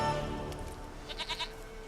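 A goat in The Witcher 3: Wild Hunt gives a few short, quavering bleats close by. A low tonal game sound hums underneath, and no one speaks.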